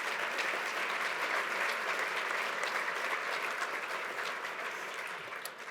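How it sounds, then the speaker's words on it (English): Awards ceremony audience giving a round of applause, steady dense clapping throughout that tapers slightly at the end. "we'll give her a round of applause"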